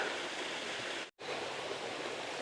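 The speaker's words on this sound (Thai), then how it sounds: "จะมีน้ำตกเล็ก ๆน้ำตกเล็ก ๆอย่างนี้" Steady rushing water from a small waterfall at Pha Rom Yen, Ban Rai, Uthai Thani, Thailand, fills the air with a constant hiss, briefly cut off for an instant before resuming.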